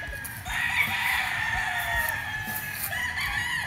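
A pure McLean gamefowl rooster crows loudly and close, one sustained, wavering cock-a-doodle-doo lasting most of the few seconds, against light farmyard background.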